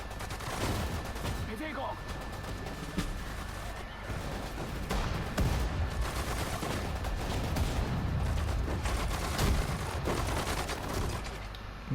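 Gunfire and explosions crackle throughout a Sudden Strike 4 battle, with dense overlapping shots and booming blasts at moderate loudness, and a voice speaking over the combat.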